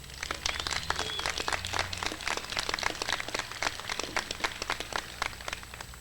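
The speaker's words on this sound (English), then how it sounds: "Let's give them a round of applause" Audience applause at a community college commencement ceremony, honoring graduates' families: dense, steady clapping from many hands, sustained for the full stretch at moderate volume.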